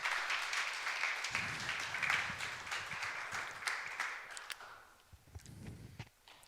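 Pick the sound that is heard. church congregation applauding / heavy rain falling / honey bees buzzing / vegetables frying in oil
church congregation applauding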